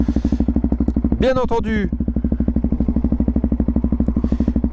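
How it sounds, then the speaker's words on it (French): A Yamaha MT-03 660 with aftermarket exhausts and no baffles idles close by, its steady, rapid thumping pulse running throughout while someone speaks briefly over it. "les pots d'échappement ne sont pas d'origine et il n'y a pas la chicane. Alors ça chante bien comme il faut."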